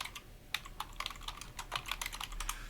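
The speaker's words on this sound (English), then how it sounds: "Let me type this down." Close, clear typing on a computer keyboard, with a quick run of irregular key clicks and taps against a quiet room background and no voices.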